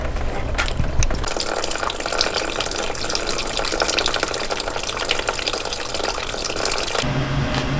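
Coolant pouring from the radiator of a 2000 Ford Mustang 4.6L V8, a steady loud gushing splash of liquid running continuously before cutting off abruptly near the end.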